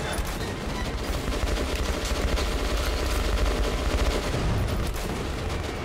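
Sustained gunfire in the video game Metro Last Light, a dense, continuous barrage of shots filling the whole stretch at steady loudness with no talking.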